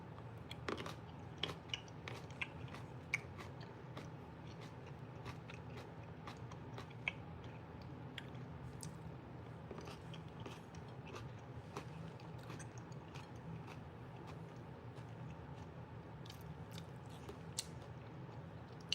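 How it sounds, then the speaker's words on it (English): Close, wet chewing and crunching of whole fresh tomatoes eaten like candy from a hydrating snack plate, with irregular bites and squishy mouth sounds running steadily throughout, no talking. "I feel like popping a tomato"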